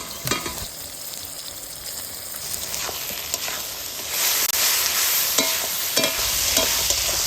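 Chopped tomato and onion fry with a steady sizzle in a pan while a spoon stirs through them, with scraping strokes that recur throughout and grow a little louder in the last half; nobody talks.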